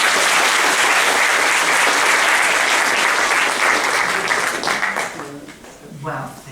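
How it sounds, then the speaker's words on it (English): Loud, dense audience applause at a keynote talk, steady for several seconds and then tapering off as a voice begins speaking over the fading claps. "can we have a round of applause"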